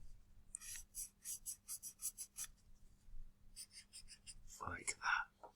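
Pencil or pen strokes scratching over paper while darkening sketch lines, a rhythmic series of short close rasps, a pause, then more strokes ending in a brief murmur.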